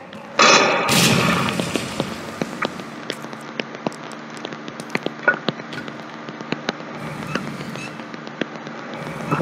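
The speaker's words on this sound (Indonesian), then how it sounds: "Itu granat lagi." A sharp, close grenade blast from the survival horror game Resident Evil 2 bursts out near the start, followed by scattered smaller cracks and pops fading into a quiet rumble.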